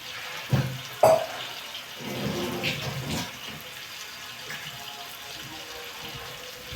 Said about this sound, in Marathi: आता याच्यात थोडंसं पाणी घेऊन घेऊ आपण धुवायला